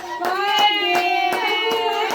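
A small child claps hands at a birthday celebration with candles, about six light, quick claps at an uneven pace over a continuous sung or hummed melody.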